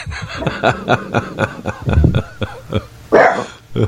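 A dog barks repeatedly in quick, close bursts, with a person's brief chuckle mixed in near the end.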